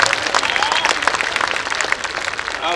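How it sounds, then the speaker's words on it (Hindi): An audience at a Kavi Sammelan poetry gathering bursts into dense, lively applause, many hands clapping close together in a loud, ragged patter from start to finish. "ताली बजाओ हो दोनों हाथ उठा कर"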